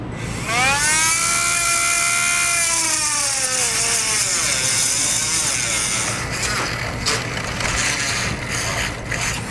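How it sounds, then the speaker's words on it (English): A handheld rotary tool trims plastic tabs while fitting a Blue Ox base plate kit to a vehicle, giving a steady high whine that bends in pitch as it bites into the plastic, then rougher grinding bursts toward the end. "you can just take a rotary tool and trim those down or cut them off."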